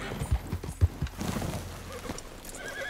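A horse in Red Dead Redemption 2 clip-clops with a few close hoof thuds and whinnies, over faint game ambience.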